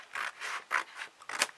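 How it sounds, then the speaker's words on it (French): Scissors cutting into a large cardboard box, a series of short close rasping snips in uneven rhythm, with no voices. "Donc, on va prendre les ciseaux."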